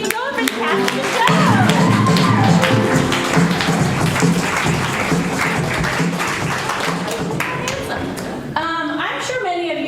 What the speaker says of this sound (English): So give yourselves a round of applause and keep it going for the cast of the show